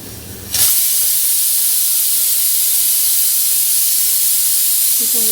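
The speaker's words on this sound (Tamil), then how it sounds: "இப்போது பருப்பு வேகிறதுக்குள்ளே நம்ம கோஸை ஸ்டீம் பண்ணி எடுத்துக்கலாம்" A steady, loud steam hiss from a steamer cooking chopped cabbage starts abruptly after a brief quiet moment and continues unbroken, close and constant.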